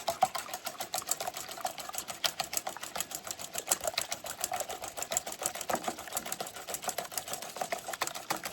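Batter for deep-fried alligator tail whipped with a beater at a campfire, a fast, even run of rapid clicking strokes that carries on without a break, close up, with no talking.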